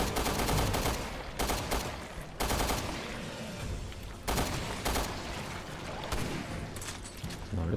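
Submachine gun fire in Resident Evil Revelations 2, loud rapid bursts repeating in several stretches with brief gaps between, close and without talk.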